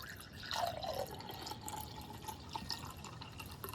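Papua New Guinea koniak kava is poured into a cup, making a close, trickling and splashing liquid sound that starts with a brief louder gush and then settles into steady dribbling.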